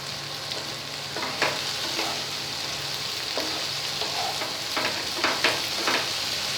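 Spice paste fries in oil over high heat for a potato and pointed gourd curry, a constant close sizzle broken by several sharp scraping stirs of a spoon in the pan.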